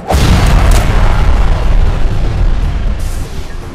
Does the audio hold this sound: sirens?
no